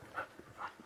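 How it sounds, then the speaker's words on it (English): A dog running around indoors pants in short, quick breaths, faint and close, with a small whimpering tone between breaths. "The dog is running around if you hear lots of panting."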